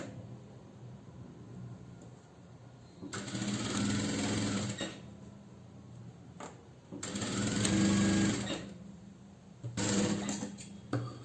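A sewing machine stitching a jacket runs in three distinct bursts of rapid mechanical whirring, with quiet gaps between them, heard close and without talk.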